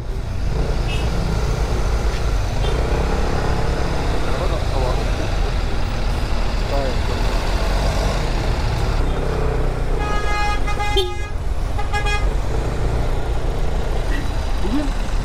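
Loud, constant roar of street traffic with engines rumbling and a horn tooting partway through, voices talking over the busy road noise.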